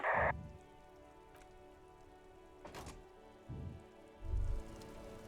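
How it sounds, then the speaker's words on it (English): Rain falling on a white-and-blue police car in Disco Elysium, a steady soft patter of drops with a few heavier thuds and low knocks scattered through, no voices. "Droplets of rain fall on the white on blue police livery."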